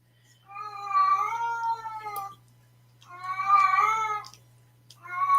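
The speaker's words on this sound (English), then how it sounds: "It's that desperation meow." A cat meows insistently in two long, drawn-out wails with a third starting, close and loud, with a steady low hum underneath.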